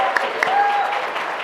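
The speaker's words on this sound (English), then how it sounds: "One more time, a round of applause, please." An audience at a research update talk gives a brief, dense round of applause, steady and moderately loud, with a faint tonal whistle running under the clapping.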